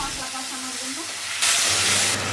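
Tomato, green chili and ginger paste sautéing in a pan, a steady close sizzle that swells into a louder, brighter hiss partway through as a voice murmurs underneath.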